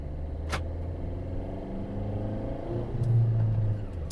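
A Maruti Ertiga seven-seater pulls away in second gear, its engine note rising steadily from inside the cabin, a mid-loud hum that swells slightly toward the end, with no one talking.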